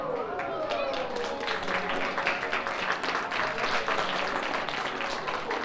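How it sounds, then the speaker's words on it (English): An audience at a magician's full show at Barton Orchards applauds steadily throughout, a dense spread of clapping hands heard with voices and tonal sounds running over it. "Thank you all so much for that wonderful applause."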